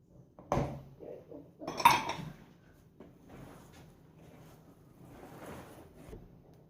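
Kebab masala being mixed with gram flour in a bowl for Lahori-style kebabs, heard as a few scattered utensil clinks and scrapes against the bowl, with louder knocks near the start and quieter rustling mixing after.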